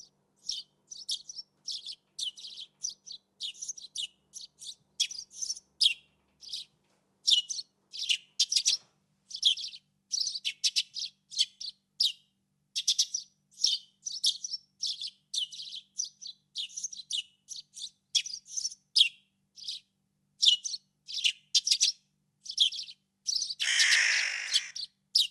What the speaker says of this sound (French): Sony a une petite boucle avec cet oiseau et c'est assez bluffant